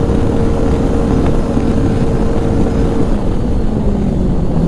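2016 Arctic Cat Pantera 3000 snowmobile with a 700cc engine running at full throttle on a packed track, heard as a continuous, fairly loud low drone mixed with wind rush and a faint steady tone, without speech.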